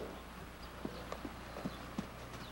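Friesian gelding's hooves striking the ground at a canter on a hot day, a few faint, sparse thuds in an irregular rhythm under steady outdoor background noise.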